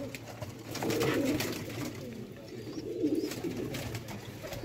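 Pigeons coo in low, repeated rounded phrases, close and fairly loud over a steady rooftop murmur, with no talking.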